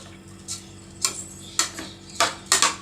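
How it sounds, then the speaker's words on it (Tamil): Basmati rice fried in ghee inside a pressure cooker, stirred with a utensil that gives a series of distinct scraping clinks against the metal pot, about five close, moderately loud strokes spaced under a second apart over a steady low hum. "இப்போ 2 கிளாஸ் பாஸ்மதி அரிசி எடுத்து நான் நல்லா ஃப்ரை பண்ணிக்கிறேன்."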